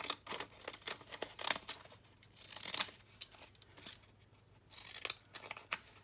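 Scissors trimming paper for a challenge craft, a quick series of sharp close snips and cuts with short pauses between bursts, quiet and clear with no talking.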